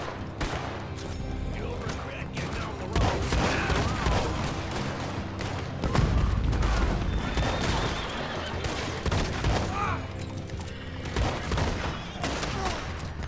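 Dense gunfire from the Red Dead Online video game, volleys and rapid shots crackling almost without pause, loud and close, with a horse whinny and voices shouting now and then underneath.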